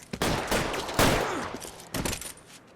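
Gunfire rattles in a shootout in the video game L.A. Noire, with a rapid burst of overlapping shots, loud and dense, fading into scattered reports.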